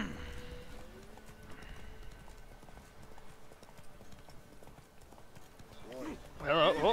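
Horse hooves clip-clop at a steady walking pace in The Witcher 3, faint under the game's ambient sound, with a louder whinny-like burst near the end.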